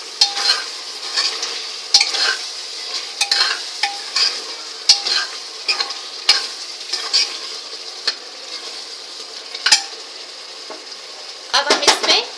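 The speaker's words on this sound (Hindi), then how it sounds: "अब हम इसमें कटी हुई हरी मिर्च, हरा धनिया और पुदीना डाल देंगे। और इसे मिक्स कर लेंगे।" Chopped green chilli, coriander and mint stirred into mutton pulao in a pot, an irregular series of sharp spoon scrapes and clinks over a bright frying sizzle, with a flurry of quick strokes at the end.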